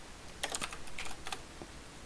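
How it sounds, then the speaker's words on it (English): Computer keyboard typing during a voice chat, a few quick bursts of sharp key clicks close to the microphone, then a pause and another short run of taps. "I hear the typing"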